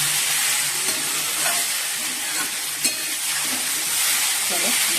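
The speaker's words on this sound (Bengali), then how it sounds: "সোয়াবিনের তরকারি কষাচ্ছি" Soybean curry cooked with ginger, garlic and onion being stirred and sautéed in a pan, giving a steady close sizzle with occasional scraping strokes throughout, no talking.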